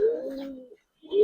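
A female Giribaz pigeon coos twice, soft close calls separated by a short pause.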